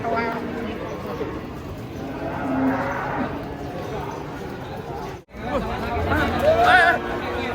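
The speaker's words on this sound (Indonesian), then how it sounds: "Banyak sapi lucu guys" Cattle moo repeatedly amid a busy crowd at a market, long drawn-out lowing calls overlapping with background chatter and people talking nearby.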